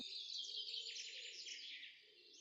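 Dense, high twittering of many small farmyard poultry birds chirping together, continuous and somewhat distant, with no voices.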